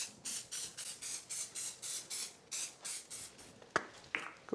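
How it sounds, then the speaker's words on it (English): Avocado oil spray greasing a clean bowl for bread dough, a run of about eleven short rhythmic hissing bursts, close and fairly loud, followed by a few faint clicks and knocks. "I'm going to grease with some avocado spray, avocado oil spray"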